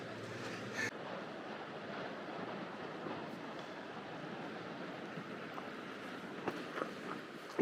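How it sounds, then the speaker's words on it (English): Sea waves wash and crash against the rocks of a calanque on the French Riviera, a soft, continuous rushing surf with some wind buffeting, heard faint and without voices. "you hear the waves crashing on the rocks"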